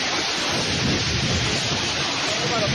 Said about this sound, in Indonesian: Hujan deras disertai angin kencang terjang Purbalingga, Jawa Tengah.